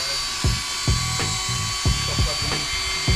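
A power drill in a woodworking shop fires in short repeated bursts, about seven spaced pulses over steady background hum, close and fairly loud with no talking.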